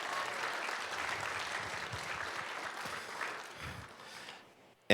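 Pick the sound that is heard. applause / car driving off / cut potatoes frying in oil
applause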